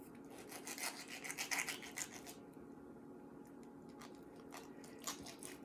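A knife works around the ball joint of a raw chicken leg, giving soft, close scraping and rasping strokes that rise and fall in short bursts, with no talk.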